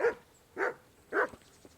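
Three loud dog barks at an even pace, each short and sharp, with quiet gaps between them, from a dog in the medieval role-playing game Kingdom Come: Deliverance.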